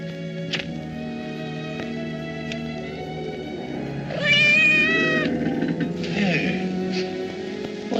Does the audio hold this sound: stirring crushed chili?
no